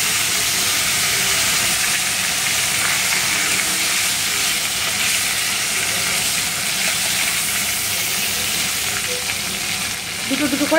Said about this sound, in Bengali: এই দেখো মাছের ডিম ভাজা হচ্ছে।